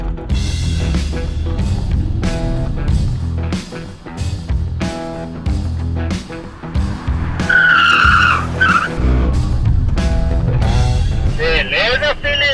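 A car brakes hard in a cone driving exercise, tires squealing loudly in rising, wavering skids, with engine noise and excited voices talking over much of it.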